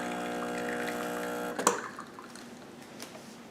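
A Sage Barista Express (SES875) espresso machine pulls a single shot, its steady pump hum and whir running loud and alone before cutting off with a click, leaving faint drips and quiet room noise.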